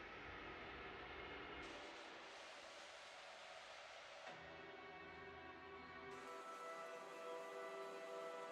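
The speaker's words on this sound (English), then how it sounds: "That's a train." A train rumbles past in a video game's ambient soundscape, a low, steady wash of rail noise that shifts in tone partway through, with no voices.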